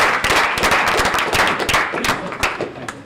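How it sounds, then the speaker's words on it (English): A debate audience breaks into loud, close applause, dense overlapping claps with a few sharp individual hand strikes standing out, sustained for the whole stretch with no talking. "I think you should give yourself a round of applause."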